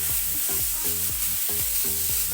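Margarine melting in a hot pan before onion and garlic go in for buffalo wings, a steady soft sizzle with faint crackle, close and continuous, with a repeating musical pattern underneath.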